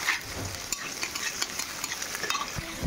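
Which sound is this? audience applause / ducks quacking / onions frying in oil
onions frying in oil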